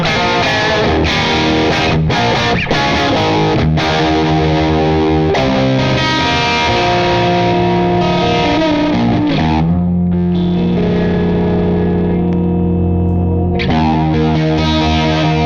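An electric guitar is driven through a handwired JTM45 amp with an ODR1 overdrive, loud gritty chords and riffs ringing out continuously with a few sustained notes, no talk.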